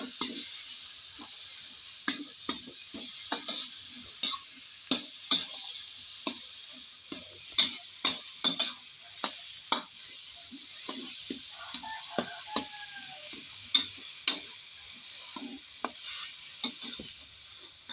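Wolffia (khai phum) stir-roasted in a pan for a Thai curry with lemon basil, giving a steady faint sizzle broken by sharp, irregular clicks and scrapes of a utensil against the pan, close up, with no talking.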